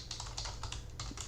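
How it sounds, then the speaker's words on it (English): Rapid, continuous typing on a computer keyboard, dense clicking keystrokes close to the microphone over a low steady hum, no voices. "I'm typing."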